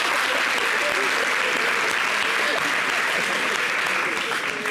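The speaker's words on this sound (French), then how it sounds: "applaudissez pour vous même" A television studio audience claps for itself in a steady, dense round of applause, with cheering voices faintly mixed into the sustained clapping.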